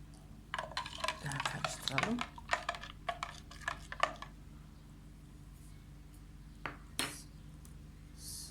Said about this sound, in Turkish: Bunu iyice karıştıralım çektikten sonra.